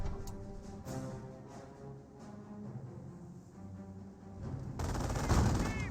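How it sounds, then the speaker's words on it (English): Gunfire in the video game Company of Heroes directed at pioneers, a faint spatter of shots under game ambience that ends in a louder burst of fire near the end. "Pioneers receive a bit of fire."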